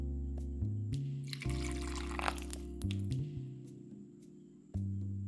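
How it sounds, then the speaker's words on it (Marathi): Water is poured into a grinder jar holding ground coconut with a little salt, a short liquid pour and trickle over a low steady hum, with a few brief knocks and shifts around it. "ह्यामध्ये पाणी घालून आणखी आपल्याला वाटून घ्यायचं आहे"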